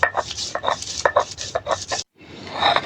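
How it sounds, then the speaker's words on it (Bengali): Spices, ginger, garlic and onion being ground on a stone shil-pata: close, rhythmic scraping strokes of the grinding stone, a brief pause, then a longer grinding stroke, with no talk. "এই তো বেটে নিচ্ছি। এইভাবে সবগুলা মশলা আমি বেটে নিব।"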